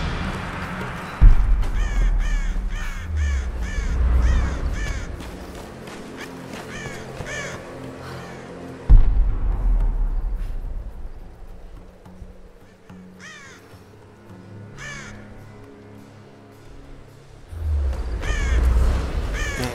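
Crows caw repeatedly in Tomb Raider, harsh calls in irregular bursts, some loud and close, others fainter, over a low ambient rumble with occasional thuds.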